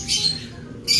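Racing pigeons in a loft give short squawking calls, two brief bursts close by with low murmuring and rustling between them.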